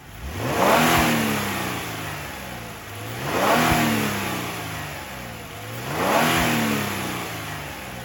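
Customized engine sound in a 2025 Genesis G70 Sport, revving three times in a steady rhythm, each rev swelling and falling back, close and fairly loud with no voices.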